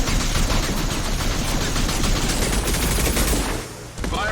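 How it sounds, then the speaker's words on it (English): Rapid, loud gunfire in the video game Mass Effect 2, high-impact shots cracking in a dense volley that runs for several seconds before dropping off abruptly near the end. "Firing a high-impact shot."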